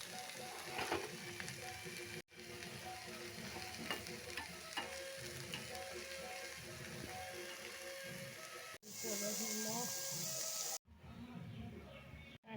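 Chili, onion and garlic paste sizzling in mustard oil while being stirred, a continuous crackling fry with scraping, briefly interrupted by cuts and a louder hissing burst near the end; no talk.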